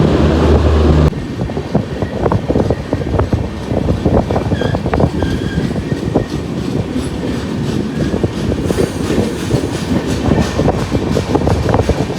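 A train rolls into Lonavala station with a loud, steady rumble and rhythmic clatter of wheels on rails, brief squeals rising over the noise as it continues.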